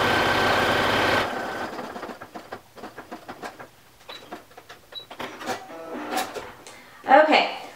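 A sewing machine stitches a quarter-inch seam on a thumbhole cuff in one short whirring burst, followed by soft clicks and handling noises with talking.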